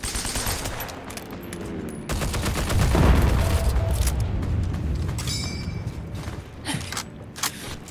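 Rapid automatic gunfire from an online shooter game, with dense bursts and booming shots running continuously over a loud, cluttered game soundscape.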